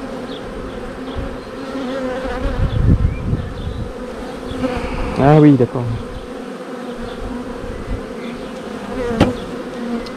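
Honeybees buzz steadily around an open hive frame of honey, a dense continuous drone close by, with a person briefly speaking over it.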